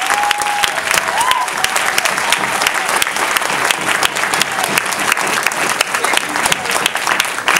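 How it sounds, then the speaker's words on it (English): Steady, dense applause from an audience at a speech event fills the whole stretch, loud and continuous with clapping throughout and no voices above it. "He deserves a round of applause."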